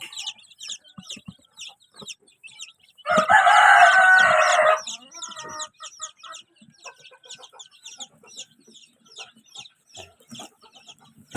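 Rhode Island Red chickens and chicks being moved to a new coop, with steady high chick peeping and clucking throughout and a loud rooster crow rising in the middle, close by.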